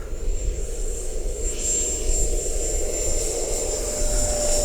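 An FMS Viper RC jet with takeoff flaps set spools up for a takeoff run from grass, its ducted-fan whine holding a steady high tone over a loud, continuous rushing roar with no talk.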